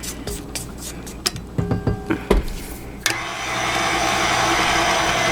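An electric mixer works pierogi dough in a bowl: first a string of knocks and clatters, then the motor starts abruptly and keeps up a steady whirring drone.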